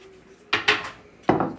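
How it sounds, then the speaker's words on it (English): Chopped onions, garlic and basil tipped into a cooking pot, giving three quick clattering thuds with brief scrapes, close and fairly loud, with no talking. "So I'm going to dump my onions, garlic, basil,"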